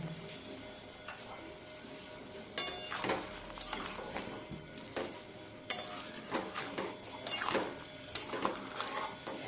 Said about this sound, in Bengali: মশলা বেটে দেওয়ার যে জলটা ছিল ওইটা দিয়ে আমি আবারও একটু কষিয়ে নেব।